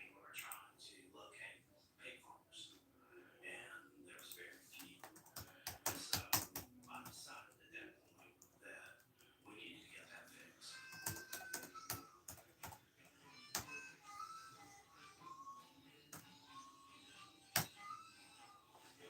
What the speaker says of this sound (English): I'm typing in something.